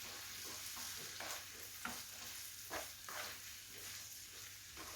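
Chickpeas with salt and spices being stirred in a frying pan, quiet sizzling under a few soft scraping strokes, faint and close.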